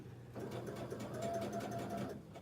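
A sewing machine stitches pieces of an economy quilt block, running as a steady, close mechanical whir with a fine rapid needle rhythm throughout.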